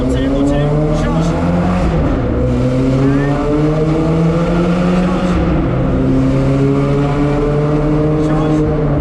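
A car engine revs up and climbs through repeated rising tones with gear changes during a driving lesson, loud and close from inside the cabin, with an instructor talking over it.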